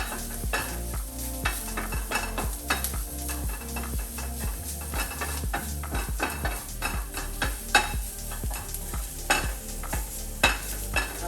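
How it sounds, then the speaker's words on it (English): Raisins, turmeric and cinnamon are stirred in a sizzling pan, the spoon scraping and clinking in an uneven rhythm against steady frying noise, close and with no talk. "we're just going to give everything a nice little stir, like so"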